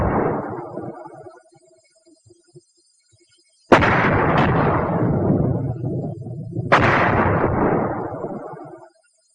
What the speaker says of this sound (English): an exploding mortar shell can kill